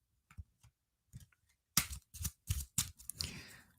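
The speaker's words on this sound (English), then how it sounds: "I try to shuffle real good with these because, like I said, it's another smaller deck, not nearly as big as tarot." Shuffling a small deck of Kipper cards: a few soft scattered taps, then a run of sharp, close riffling bursts in quick succession, ending in a longer fluttering riffle.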